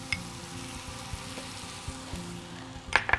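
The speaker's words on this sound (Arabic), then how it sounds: "بناخد البصل يتشوح، بنحط معاه التوابل، بنحط الجنزبيل قبل ما البصل يبتدي يتحمر" Onions sautéing in a pan with spices and ginger, a steady close sizzle with soft stirring scrapes and a couple of sharper utensil clinks near the end.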